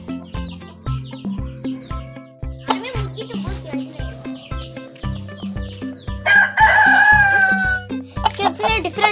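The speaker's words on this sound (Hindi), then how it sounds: "हमें मुर्गा बहुत प्यारा लगा था मुझे, तो हम ये मुर्गा ले आए हैं" An Aseel breed rooster crows loudly and close, one long drawn-out call rising over steady clucking and farmyard bird noise, while people talk intermittently around it.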